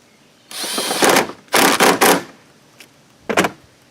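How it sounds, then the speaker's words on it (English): A cordless impact driver tightens a rear bolt during an Autosaver88 headlight install on a car, with several short, loud bursts and a brief final zip, without talk. "Tighten down this rear bolt."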